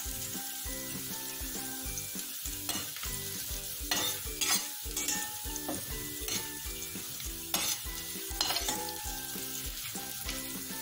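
Onion and garlic sizzle and fry in a pan, with steady crackling and repeated scraping strokes of a utensil stirring close by, no talk.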